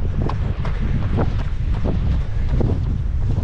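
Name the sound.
strong headwind blowing into microphone during run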